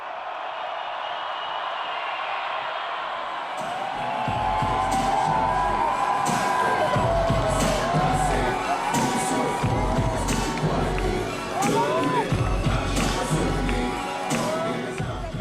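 A huge open-air festival crowd on a lawn roars and cheers for the godfather of French rap, a dense sustained wall of shouts and whoops swelling after a quieter start, with scattered claps and no talk.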